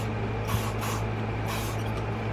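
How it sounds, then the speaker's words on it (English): Bug spray hisses from an aerosol can in a few broad bursts over a steady low background hum. "but we are gonna put some bug spray."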